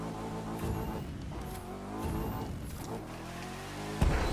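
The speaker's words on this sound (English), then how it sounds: "But it's fun though when you did drifting on this car." A car drifts in the racing game The Crew 2, its engine droning loudly and continuously while tires squeal in thin, rising whines across the sliding turns.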